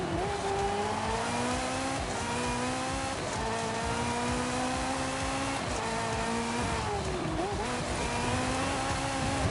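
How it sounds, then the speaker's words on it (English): Inside the cockpit of a racing video game car, the engine drones loudly and continuously. Its pitch climbs and drops through repeated gear shifts and revs, with brief tire squeal and no talk. "the cars do sound quite a bit better on interior than they do on exterior."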